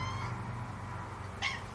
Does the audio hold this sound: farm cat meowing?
yes